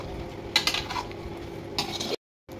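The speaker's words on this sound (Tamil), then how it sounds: "வெல்லம் போட்டேன், அப்புறம் நல்லா கலக்கணும்" A spoon stirring jaggery into a mango sweet in a pan, giving a few soft metallic scrapes and clinks over a low background hum, then a short silent gap.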